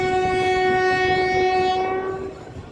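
The Koyna Express sounds a long, loud horn as it departs Miraj Junction, one steady tone that holds for about two seconds and then fades away, with no voices.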